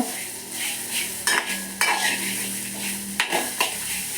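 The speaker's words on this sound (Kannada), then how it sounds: "ಎಲ್ಲವನ್ನು ಇದರ ಜೊತೆಗೆ ಹಾಕಿಬಿಟ್ಟು ಫ್ರೈ ಮಾಡೋಣ. ಚೆನ್ನಾಗಿ ಫ್ರೈ ಆಗಬೇಕು." Grated coconut and spices frying in a pan for a black-eyed bean curry, a continuous sizzle broken by several sharp clacks and scrapes of a metal spoon against the pan.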